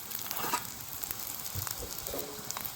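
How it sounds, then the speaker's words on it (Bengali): Aloo kulcha frying on a pan, giving a soft continuous sizzle with faint crackles and light stirring noises, quiet and close, with no voices. "তো এইভাবেই সব এক এক করে ভেজে নিচ্ছি"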